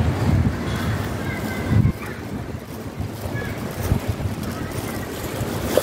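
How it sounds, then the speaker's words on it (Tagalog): Wind gusts buffet outdoors in cold weather, rumbling low and steady with a couple of stronger bursts, while a voice talks over it. "Naririnig niyo guys ang hangin."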